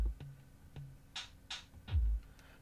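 A sparse techno drum pattern from a Tesla's in-car beat maker: deep kick thumps alternating with crisp, snappy snare hits, played dry and fairly quiet with no voices.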